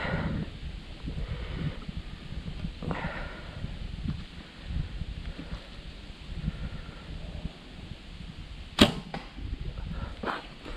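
An arrow from a Darton bow strikes a 3D archery target on an outdoor course, one sharp, brief snap heard some distance off amid steady wind and rustling, with no talking.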